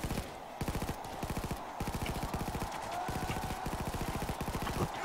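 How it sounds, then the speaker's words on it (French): Rapid gunfire in the video game Payday 2, bursts of quick evenly spaced shots with brief pauses between them, steady and fairly loud throughout. "Oh là là, mais ce fusil à pompe, t'as vu comment il est kiffant?"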